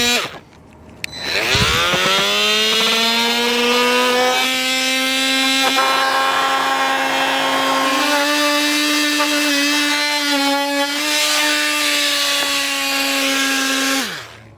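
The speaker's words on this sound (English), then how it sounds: "being pretty thin plastic, I'm just going to use a multi-tool to cut that out" An oscillating multi-tool cuts through thin plastic front fascia on a 2021 vehicle during a hidden front-mount hitch installation, a loud, steady high buzz starting abruptly and holding for over ten seconds before cutting off.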